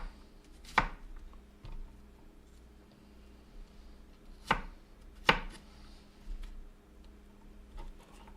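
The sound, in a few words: chopping onions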